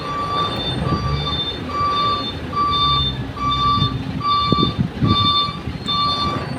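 Truck backing up a trailer on a rainy road, its reversing alarm sounding a regular series of about eight evenly spaced beeps over engine rumble and background noise.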